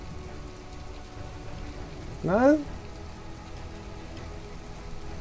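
Steady rain hiss from the video game From The Depths, a constant wash of falling rain with one brief rising voiced sound breaking in midway.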